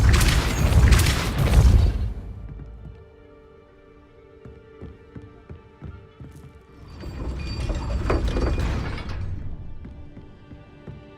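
Two heavy magical blasts of the Depulso spell in Hogwarts Legacy, each a deep booming burst with rattling debris, the first loud and the second fuller, separated by a quiet stretch of faint mechanical clicks.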